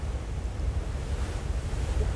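Wind blowing across the open deck of an Istanbul commuter ferry near Kadıköy, a steady low buffeting rumble with gusty fluctuations, loud and close, with the wash of water beneath and no talking.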